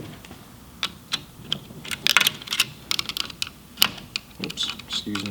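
Metal bolts clicking and clattering as a gun is taken apart by hand, a sparse series of sharp close taps and small knocks with some fumbling.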